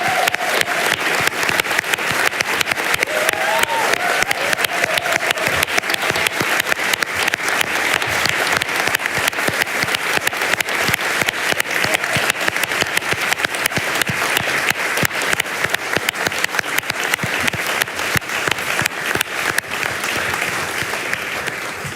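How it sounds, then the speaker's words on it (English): Sustained, loud applause from a large audience welcoming Senator Bernie Sanders onto the stage at an evening conversation event, steady dense clapping that lasts throughout with no talk over it. "Give him a very warm welcome and a warm applause, Senator Bernie Sanders."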